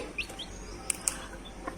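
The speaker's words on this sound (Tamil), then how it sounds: "கத்துது சத்தம் கேட்குதுங்க முட்டையில்" A chick cheeps from inside a hatching chicken egg, a few thin, high, brief peeps close by and fairly faint, spread across a quiet moment.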